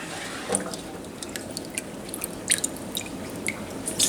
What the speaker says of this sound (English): We're going to begin to ladle this again through a strainer